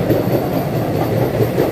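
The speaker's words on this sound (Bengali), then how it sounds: "ব্যারাকপুর স্টেশন থেকে আমাদের ট্রেন ছেড়ে দিল।" Kolkata's first AC local electric train runs steadily after leaving Barrackpore station, a loud continuous rumble with faint rhythmic wheel clatter, heard from inside the coach.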